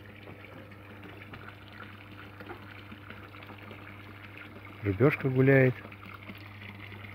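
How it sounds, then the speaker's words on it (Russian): A small waterfall in a garden pond trickles with a steady, soft wash of water throughout, while someone speaks briefly near the middle. "Водопадик."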